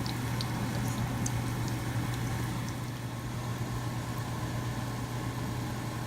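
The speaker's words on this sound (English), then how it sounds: "this is the final frying phase of my last batch." A steady sizzle of gulgule, sweet dumplings, frying in hot oil, constant and close, with a low background hum throughout.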